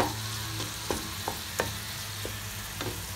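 Shrimp sizzle and fry in a pan with cooked tomato, a dense steady crackle broken by frequent sharp pops, close and fairly quiet with no talking.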